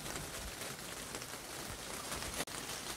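Steady rain patters densely on a greenhouse roof overhead, a constant soft hiss of drops that continues throughout without pause.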